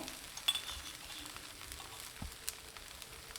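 Rava dosa batter sizzles on a hot griddle, a soft, steady frying hiss with faint crackles and an occasional light clink, heard close and alone.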